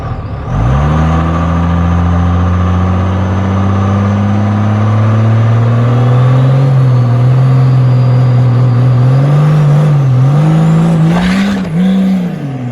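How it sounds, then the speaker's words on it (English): A triple-turbo 12V Cummins diesel truck with a back half and four-link roars loudly and close at a drag strip, its engine note holding steady and then climbing and wavering as it revs hard toward the end, with turbo whine above. "Bust the tires off of it."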